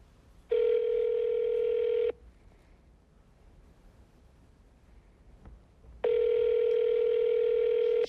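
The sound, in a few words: telephone dial tone and dialing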